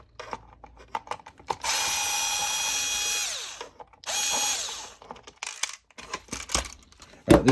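A screwdriver works a screw out of a Dyson direct drive vacuum head, V6 to V11 type, with clicking ratchet-like turns and two sustained whirring bursts of a powered driver, close and loud, between short clicks and handling taps.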